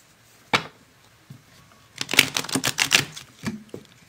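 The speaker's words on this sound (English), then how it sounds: "I'm gonna shuffle it twice more." A deck of cards being shuffled up close, a quick riffling flutter after a few isolated taps and clicks.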